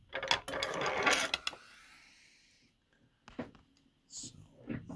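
A Consew sewing machine is turned by its hand crank. A short burst of whirring, clicking mechanism is followed by quieter, scattered mechanical ticks.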